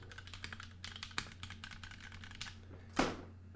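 Keycaps are pried off a heavy brass-weighted custom mechanical keyboard, a quiet run of small plastic clicks and ticks in close succession, ending with one sharper clack.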